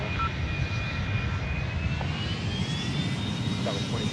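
Jet airliner engines in a flight simulator game roar steadily throughout as the plane comes in to land, a loud continuous drone with a faint rising whine layered on top.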